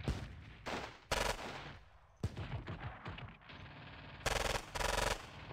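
Anti-tank rifle fire in the war game Squad Battles Red Victory at Ponyri: several loud, sharp bursts of shots in separate clusters, with quieter gaps of battlefield noise between them.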